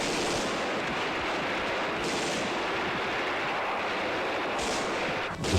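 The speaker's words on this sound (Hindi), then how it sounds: "सुन रहे हैं सर फायरिंग की आवाजें?" Gunfire in a battle scene, a loud, continuous roar of shots blending into a dense wash with slight surges, running the whole time.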